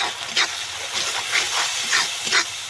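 Spices sautéing in a pan for a ash gourd dish, a steady close sizzle and hiss with repeated louder bursts of frying as the mixture is stirred.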